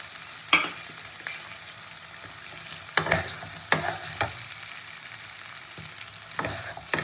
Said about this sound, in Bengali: বেগুনটা দিয়েও খুব ভালো করে নাড়াচাড়া করে আবারও আমি ঢেকে দিয়ে দেবো